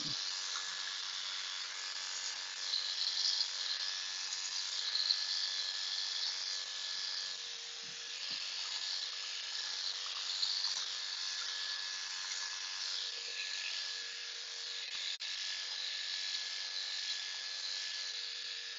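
Electric clippers shaving a standard poodle's face, a steady close high-pitched motor buzz holding continuously throughout with only slight wavering as the blade moves across the fur.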